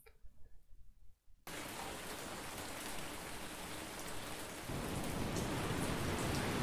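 Steady rain in a War on the Sea video game pours down loudly, a dense continuous hiss that swells heavier partway through, following a short quiet stretch with faint noises.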